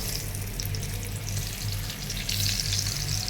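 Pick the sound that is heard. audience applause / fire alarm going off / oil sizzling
oil sizzling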